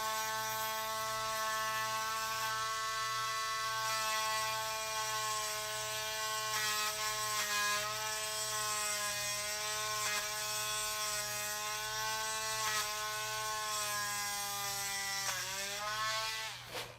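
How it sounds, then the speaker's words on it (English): A rotary tool fitted with a sanding bit grinds down a screw lodged in the elbow joint of a Mezco Green Arrow action figure. It gives a steady, loud, high-pitched motor whine that holds for the whole stretch, with slight pitch dips under load and a brief drop near the end. "I'm using the sanding bit to try to sand down the screw that's basically in here right now."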